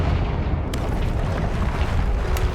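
A Confringo spell explosion in Hogwarts Legacy on PC: a dense, rumbling blast with a sharp crack near the start and another late, steady and loud, with no voices.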